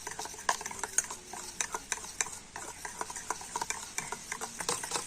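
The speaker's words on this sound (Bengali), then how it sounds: "জল দিয়ে আবার ব্যাটারটাকে খুব ভালো করে ফেটিয়ে নিতে হবে।" Rice batter thinned with water is beaten in a bowl by hand, a quick irregular run of light clinks and wet taps from the utensil against the bowl, close and steady, with no talking.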